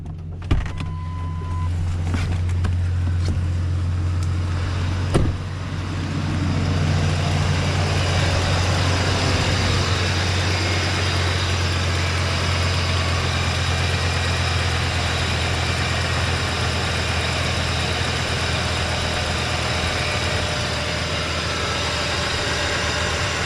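Ford F-350 Super Duty truck with a 6.8L Triton V10 starting after an alternator change, a brief cranking burst settling into a steady, deep, even idle hum heard up close.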